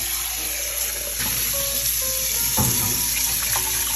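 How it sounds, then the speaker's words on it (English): Water runs from a tap into a Staub La Cocotte cast iron pot, a steady close splashing stream with a few brief clinks as the flow shifts, no voices. "put some water in, let it sit"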